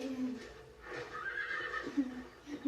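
A horse whinnies in a shrill, wavering neigh in a video game, fairly quiet, with a few soft low sounds around it.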